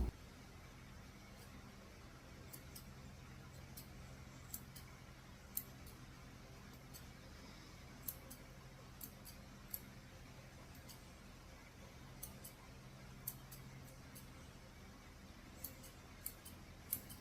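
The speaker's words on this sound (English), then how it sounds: "I'm using my curved scissors in reverse to trim his eyebrows" Quiet, sharp snips at irregular intervals over a low steady hum, small curved scissors trimming a poodle's eyebrows close by.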